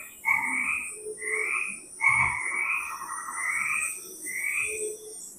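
A frog croaks in a steady series of about five drawn-out, rasping calls, close and clear with short gaps between them.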